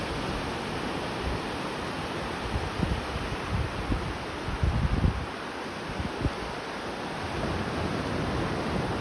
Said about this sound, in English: Look at here the Pacific Ocean.